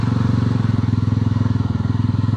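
A 334 cc single-cylinder motorcycle engine, a Jawa 42 FJ or Yezdi Roadster, idles steadily with a loud, even low thump of exhaust pulses, close and alone.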